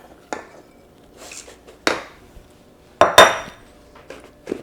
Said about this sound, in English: So I'm just using my spatula here to press it in.